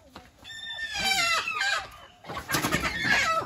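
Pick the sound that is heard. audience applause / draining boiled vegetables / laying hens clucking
laying hens clucking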